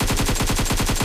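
Rapid automatic gunfire from BGMI, a mobile battle royale shooter, a dense unbroken burst of about ten evenly spaced shots, loud and close.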